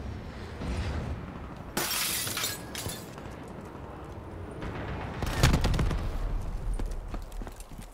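Hellstorm missile strike in Call of Duty Black Ops 3 online multiplayer: sharp crashing, shattering blasts at about 2 and 5.5 seconds over a constant roar of battle noise.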